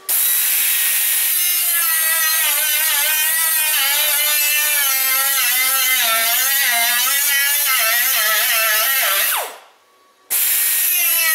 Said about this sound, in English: let's grind these rivets off and get this little guy out of here